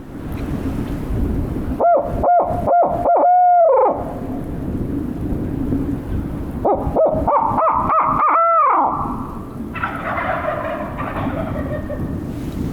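During turkey hunting, a person imitates an owl hoot with loud, drawn-out descending calls, and turkey gobbles answer from not far off, all over steady outdoor background noise.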